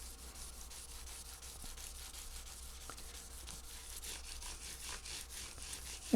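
Fine 2000-grit sandpaper rubs over the frets of a koa J-200 acoustic guitar in a steady, faint back-and-forth scrubbing rhythm that continues throughout without speech.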